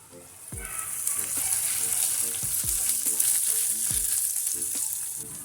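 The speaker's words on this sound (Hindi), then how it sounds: "अब इनमें थोड़ा मॉइस्चर बाकी है, इसलिए इन्हें भी थोड़ा 3-4 मिनट भूनेंगे" Blanched peas frying with onion and garlic in a pan, making a steady close sizzle. A few spoon scrapes and stirs punctuate it, and there is no talking.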